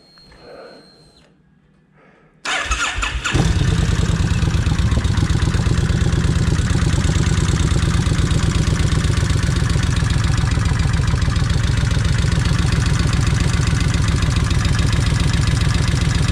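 A Kawasaki Vulcan 1600 motorcycle engine cranks and catches after a quiet moment, then settles into a loud, steady, rumbling idle with rapid mechanical pulsing.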